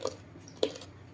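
Two short, crisp bites of boiled pork stomach in a spicy Thai-Lao offal dish, close to the mic, one near the start and a louder one a moment later, with quiet pauses around them.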